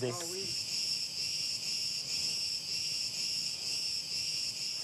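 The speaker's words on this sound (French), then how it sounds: "c'est le son des grillons hein," Crickets chirp steadily in a dense, continuous high trill in the Cretan night air, with a brief voice at the very start.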